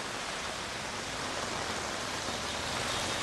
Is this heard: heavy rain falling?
yes